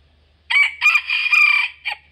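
A young Thai long-tailed rooster, about eight months old with straw-coloured hackles, crows close and loud in one full call that ends with a short final note, with no voices over it.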